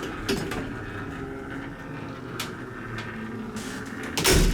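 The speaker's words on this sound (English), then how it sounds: "Very slow door." A 1959 Haughton traction elevator's door slides slowly with a low mechanical rumble and faint clunks, ending in a louder thump as it finishes moving; no voices.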